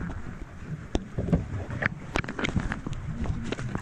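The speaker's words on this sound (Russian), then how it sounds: "а сейчас мы пойдем кататься на катамаране" A catamaran moves on the sea, with water splashing and sloshing against the hulls amid gusty wind noise, close and continuous.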